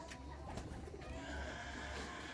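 An old-line Giribaz pigeon coos in soft, low, repeated calls over a steady background hum, with no talking.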